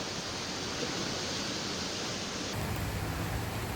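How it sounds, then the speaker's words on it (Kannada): Floodwater in heavy Kerala rain roars and rushes in a dense, unbroken wash of noise, steady and loud, its tone shifting slightly partway through with no voices. "ಆ ಪ್ರಮಾಣದಲ್ಲಿ ನೀರು ಭೋರ್ಗರೆದು ಹರಿತಾ ಇದೆ"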